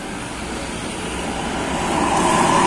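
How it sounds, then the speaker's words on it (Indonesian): A large tour bus approaches along a street in Ciamis, Indonesia, with a rising engine roar and broad road noise, growing louder as it draws near. "Ini persiapan akan melintas bus Armada Jaya Perkasa."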